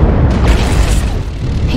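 An artillery strike in a video game explodes in a loud, continuous, rumbling boom that fills the short moment, deep and close.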